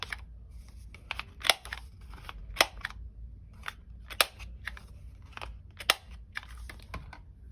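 A small corner-rounding punch clicks sharply through a paper card during junk journal crafting, about half a dozen crisp snaps spread over several seconds above quiet rustling of paper, close and fairly soft.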